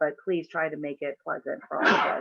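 A single sharp sneeze bursts out near the end, right after a person finishes speaking, during an online drivers' meeting for a Lucky Dog racing event at The Ridge.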